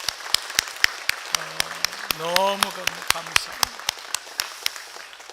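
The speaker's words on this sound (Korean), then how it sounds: "우리 영광의 박수 한번 돌리겠습니다" Church worshippers at a Sunday service at Augusta Methodist Church clap in a sparse, regular beat of distinct, sharp hand claps, with a speaker's voice briefly rising over them midway.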